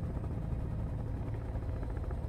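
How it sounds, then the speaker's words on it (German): A steady low helicopter drone with a faint rhythmic rotor pulse, continuous and moderately loud throughout, in the video game Sons of the Forest. "Ich höre einen Helikopter."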